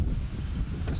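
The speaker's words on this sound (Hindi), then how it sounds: "तभी तो ठंडी ठीक से शुरू नहीं हुई और हवा चलना चालू हो गया।" Strong winter wind gusting against the microphone in Europe, a steady low roar of buffeting with no pauses, loud and close throughout.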